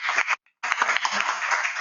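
An audience at a people-management talk breaks into broadband clapping that swells across the whole stretch, briefly cut off by a short gap, loud and dense like a room-wide round of applause.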